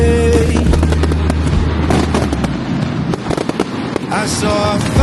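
Loy Krathong festival fireworks over Chiang Mai, Thailand, crackling and booming continuously for the whole stretch, loud and dense, with sharp bursts and rattling crackle layered over a sustained low rumble.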